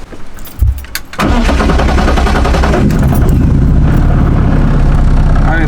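A Nissan 350Z cranks briefly and fires up loud and close, then settles into a steady, rumbling idle.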